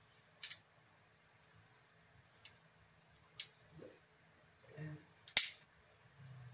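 Ruger Security-9 double-stack pistol parts clicking sharply into place during reassembly. Several separate small clicks are spaced out over quiet handling sounds, and the last one is the loudest and crispest.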